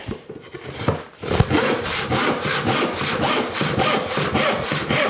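A hand rip saw cuts along the grain of wood in steady, rhythmic strokes, each push and pull a rasping burst, close and loud after a brief quiet start.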